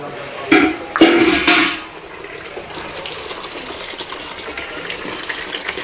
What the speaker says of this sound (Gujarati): લુગડા ધોવાનું ચાલુ.